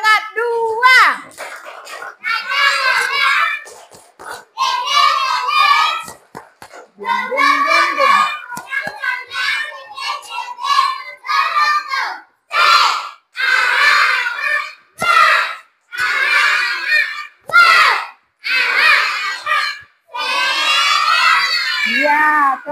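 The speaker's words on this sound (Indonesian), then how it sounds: "Kita bangkitkan semangatnya lagi dengan tepuk semangat 2" A classroom of children performing a rhythmic spirit clapping chant led by a teacher, bursts of chanted voices alternating with sharp clap patterns, loud and close, repeated in short phrases throughout.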